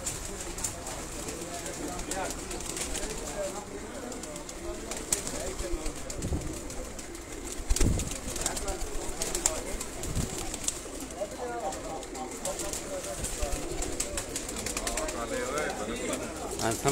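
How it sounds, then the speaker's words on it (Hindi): Batera and Kasuri pigeons coo softly and repeatedly in a loft, while people talk nearby throughout. "बटेरा और कसूरी कबूतर है जी"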